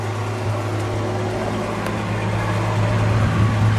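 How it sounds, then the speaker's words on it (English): A 1963 Ford Falcon Futura Convertible with a single exhaust idles in a steady, low drone with a constant exhaust rumble and hum, loud and close, no talking. "Listen to the exhaust on this one."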